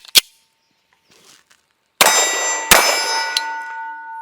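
Gunshots ringing steel targets at a Steel Challenge shooting match: a sharp crack, a pause, then two loud metallic clangs about a second apart that ring on with a long shimmering decay, close and without talking.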